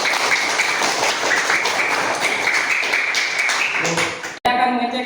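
A group applauds with dense, steady clapping for about four seconds, then the clapping cuts off and a voice begins speaking.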